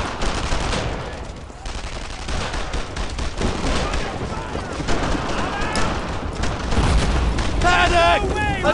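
A loud gunfire volley in Brothers in Arms, set in St. Sauveur, France, 1944: dense overlapping rifle and machine-gun fire with booming blasts that rattle on continuously, close and heavy throughout, with shouted voices mixed in.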